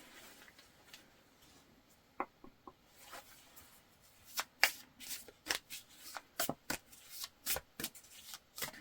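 Tarot cards are shuffled close by, first with a few sparse taps, then a quick run of crisp riffling flicks.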